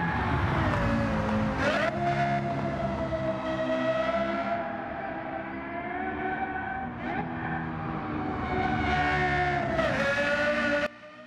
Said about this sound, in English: we can't really talk about the LFA without listening to that insane exhaust note